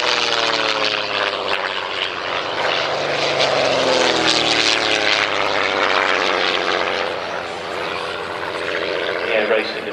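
Percival Mew Gull racing aircraft with a 210 horsepower Gipsy Queen inline six-cylinder engine flying past at Old Warden, a loud, steady propeller drone swelling and shifting in pitch across the whole stretch.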